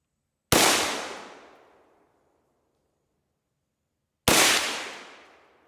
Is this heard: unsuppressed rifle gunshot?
yes